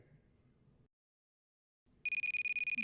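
A cell phone ringing beside a bed in the White Album 2 visual novel: a bright electronic ringtone pulses loudly in rapid repeated beeps after a short silence, following a low murmur of background music.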